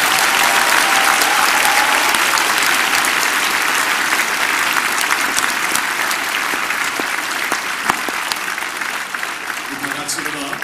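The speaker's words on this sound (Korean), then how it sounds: "다시 한번 축복의 박수 부탁드립니다" Loud, dense applause rolls steadily from a church congregation during a spiritual revival service, honoring the children's choir and Sunday school, then thins slightly toward the end while a voice speaks over it.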